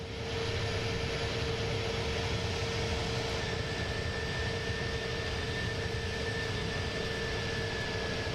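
Steady, loud jet engine roar of an Inibuilds A310 airliner in Microsoft Flight Simulator 2024, a constant broadband rumble and hiss with thin steady whines, slowing before descending below 10,000 feet, with no talking.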